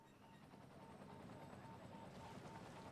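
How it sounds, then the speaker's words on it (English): Helicopters flying in to fight a large fire in the Cities Skylines city-building game, a faint steady rotor drone with no distinct beats, distant and low in level. "So big that they've called helicopters in for it."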